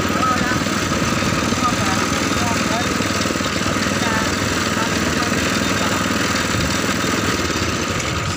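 A petrol engine powers a roadside sugarcane juice press at a street stall on the Kendal ring road. It drones steadily and loudly throughout, a dense, unbroken mechanical hum with a busy roadside in the background.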